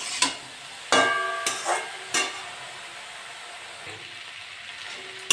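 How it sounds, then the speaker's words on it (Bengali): Eggplant frying with turmeric and salt in a pan for a bitter neem-eggplant dish, a soft steady sizzle with a few sharp stirring clatters and spatula knocks near the start, no talk. "বেগুনটা ভাজা ভাজা হয়ে গেছে"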